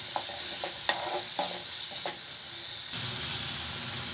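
Onions and green chillies sauté in a pan for red chutney, a steady close sizzle broken by several sharp scraping stirs of a spatula, with the frying swelling louder near the end.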